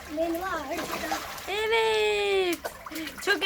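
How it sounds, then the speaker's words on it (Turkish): A young girl swims and splashes in a pool, with water splashes heard among children's shouts and voices throughout. "Aa benim kızım yüzüyor."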